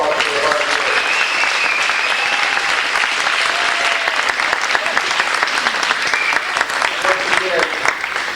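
Loud, sustained applause from an audience honoring band performers at a 1993 band performance event, dense clapping at steady strength with faint voices and cheers woven through.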